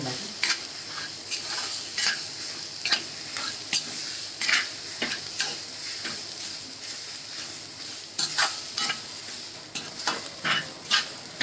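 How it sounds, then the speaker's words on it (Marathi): Cluster bean kheema with green chilli thecha being sautéed in a pan, a soft steady sizzle broken by repeated scraping stirs and clinks of a spatula against the metal, close and without talk. "आता आपण गवारीचा जो ठेचा केलेला ना तो पण याच्यात ॲड करून घेऊया परतून घ्यायचा"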